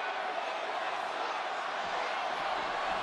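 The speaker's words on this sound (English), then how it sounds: "Raucous crowd in Milwaukee tonight." Dense, steady roar of a raucous wrestling crowd filling a Milwaukee arena during a Roman Reigns versus Braun Strowman match, a broad unbroken wash of cheering voices.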